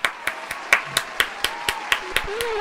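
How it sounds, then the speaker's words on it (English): Audience applause comes as a run of about a dozen sharp, evenly spaced claps, fairly close and crisp, over a faint background murmur. "Give a round of applause."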